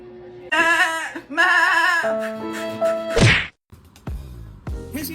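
A goat bleats loudly and close in a comedic sound effect, a few wavering cries followed by sharp thwacking hits.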